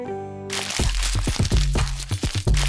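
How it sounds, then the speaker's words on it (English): A paper box rustles and crunches when touched in a Peppa Pig cartoon. A brief sustained tone comes first, then loud, close crackling and crinkling bursts follow in an irregular rhythm. "She gently touches it and hears a rustling sound."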